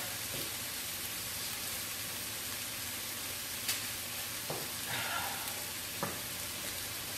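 Onions sizzle steadily in a hot pan as they soften, a dense, even hiss that runs throughout, with a few brief clicks and scrapes of stirring or utensils and no talking.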